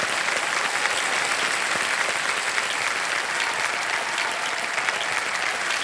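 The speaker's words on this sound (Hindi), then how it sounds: "एक बार फिर तालियां बजाओ।" Studio audience on a TV quiz show bursts into sustained, loud applause, a thick continuous roar of many people clapping that holds evenly from start to finish.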